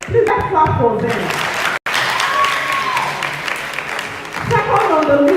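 Applause from an audience at an essay competition grand finale, a dense burst of clapping with a brief cutout partway through, swelling again toward the end while a voice carries over it.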